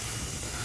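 Water rushes through the purge station of a gas boiler heating system being flushed of old glycol antifreeze, a brief, steady, loud hiss.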